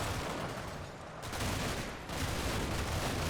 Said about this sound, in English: your job is probably going to be sit here and to have endless machine gun fire into that building